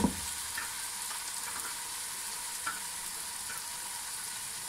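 A pan keeps up a steady, moderately quiet sizzle and hiss after a brief thump at the start, with a faint clink or two of stirring; no talking.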